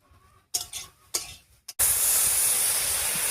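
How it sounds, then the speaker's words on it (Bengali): Milk poured into grated carrots cooking in ghee for a sweet payesh sets off a sudden loud, steady sizzle and steamy hiss after a few clanks and stirs of a spoon in the pot. "আর দেবো দুধ।"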